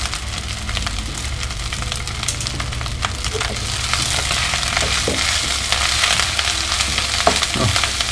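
Salt fish and chicken fried rice sizzles steadily in a hot pan, with scattered ticks and scrapes as the grains are stirred and jump, and no voice heard.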